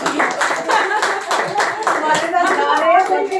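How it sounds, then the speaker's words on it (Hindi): An audience claps together after a Hindi poem recitation at a literary meet, steady rhythmic applause close and loud throughout. "अब तालियां बजाएं।"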